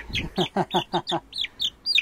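Young chickens cluck and peep in a quick series of about ten short, high calls, close by and fairly soft.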